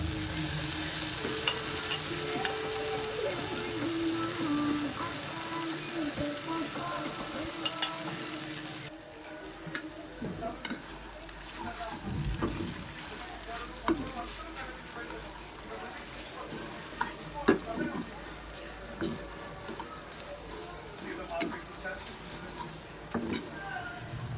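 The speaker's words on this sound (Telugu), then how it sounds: "ఎగ్లో అలా కొంచెం రెండు నిమిషాలు ఫ్రై చేసుకున్న మ్యాగీని ఎగ్ని రెండింటిని కలిపి" Maggi noodles and egg frying in a pan while being stirred, a steady sizzle with scraping stir strokes, louder at first then settling into a softer crackle with occasional clinks.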